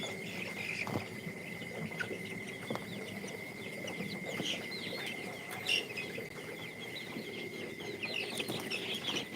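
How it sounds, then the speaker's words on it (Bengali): Colored broiler chickens, 28 days old, clucking on a farm, a busy mix of soft clucks and chirps from several birds at moderate distance, with no voices. "এই হচ্ছে আমার কালার বাট মুরগিগুলা আজকে আঠাশ দিন বয়স"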